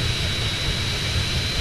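A loud, steady jet engine roars close by from an airplane in GTA San Andreas, a continuous broadband whine with a high tone over deep rumble and no break.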